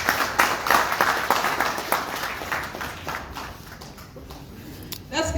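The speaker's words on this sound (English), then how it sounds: "Let's give a bigger hand of applause to our Associate Governor for the leadership" A stakeholder workshop audience applauds with a fairly loud burst of clapping that gradually fades and thins, then picks up slightly again at the end.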